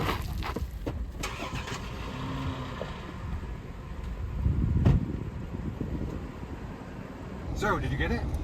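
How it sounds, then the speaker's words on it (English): Truck engine cranking and starting amid a frantic escape near an active volcano, a rough rumbling surge mid-clip under shouting voices and wind. "Gabe, start the truck"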